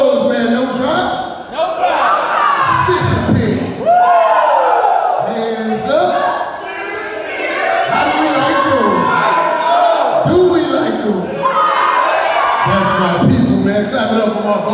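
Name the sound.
comedy show audience clapping and cheering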